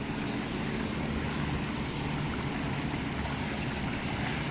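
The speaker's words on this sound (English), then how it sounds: "They have a nice little stone water fountain right here." A little stone water fountain at a resort splashes and trickles in a steady, even wash of water, fairly close and continuous, with no voices.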